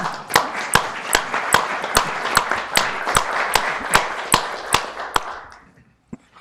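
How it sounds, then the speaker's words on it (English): A council meeting audience applauds in a steady burst of clapping, with sharp regular taps close by standing out over the crowd, then the clapping fades to near silence at the end. "Can we have a round of applause for that?"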